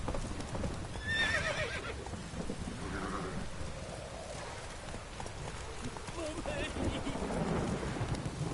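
Horse hooves clip-clop at a gallop in The Witcher video game, with whinnies, steady rain and rumbling thunder throughout; a voice talks over the game sound in places.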